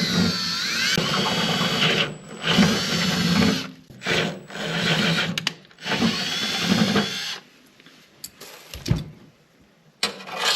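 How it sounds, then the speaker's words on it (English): A power drill bores through a homemade wooden deck on a 14 ft project boat, running in several loud bursts that stop and restart, then fall to quieter handling noises near the end. "But now I'm getting ready to drill through here."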